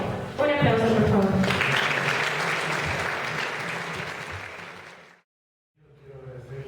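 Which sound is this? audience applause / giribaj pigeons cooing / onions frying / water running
audience applause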